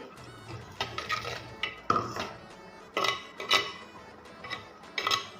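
Metal utensil scraping and clinking against a pan as masala for Mangalorean-style prawn sukka is stirred, in irregular bursts of clatter with quiet gaps between strokes.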